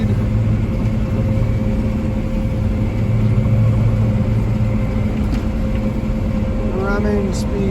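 A combine harvester runs steadily while cutting a field, a continuous loud, low mechanical drone with a faint whine on top, close and unbroken throughout.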